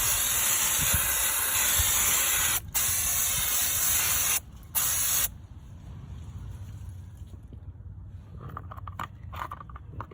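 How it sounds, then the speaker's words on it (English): Aerosol brake cleaner hisses loudly in several bursts with short pauses onto a Ford Fiesta's front brake parts, followed by quieter dripping and handling noises. "I'm just going to spray some brake cleaner on there"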